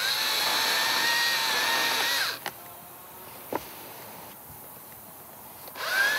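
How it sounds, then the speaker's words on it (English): An electric top-handle forestry saw cuts willow branches up in a pollarded tree. The motor whines at high speed for about two seconds, then stops with a few light clicks and briefly spins up again at the end. "In this case, it's an electric saw."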